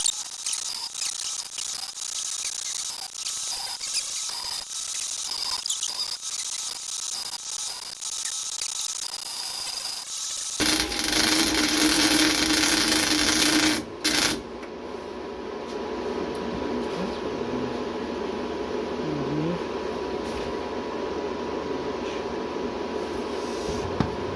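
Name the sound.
MIG welding with new R-Tech MIG 180 welder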